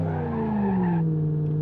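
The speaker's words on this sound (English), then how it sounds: "Little bit of wheel spin." Tires on a Gavril Grand Marshal V8 in the BeamNG.drive driving game squeal in a brief, loud wheel spin over the steady roar of the engine.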